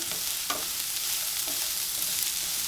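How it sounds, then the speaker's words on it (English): Tempeh sizzles softly in a pan on a medium flame, with a steady frying hiss and a few light scrapes as it is stirred, all fairly quiet with no talk. "let that fry for about 5 minutes while stirring"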